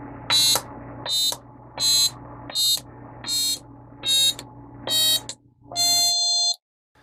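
An untuned toy piano plays a string of eight harsh, buzzy, metallic notes in a steady rhythm, the last one held longer before stopping abruptly.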